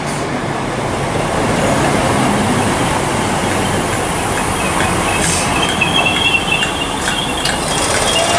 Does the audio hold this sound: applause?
no